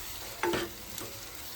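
Prawns cooking in masala in a pan, a soft steady sizzle with a couple of sharp scraping stirs of a spoon against the metal, close and fairly quiet.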